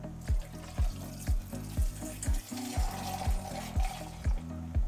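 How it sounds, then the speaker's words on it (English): A long stream of mead poured while racking into glassware, a continuous splashing liquid flow with a regular pulsing rhythm of low thumps throughout, steady and close. "See how comical I can make this long pour."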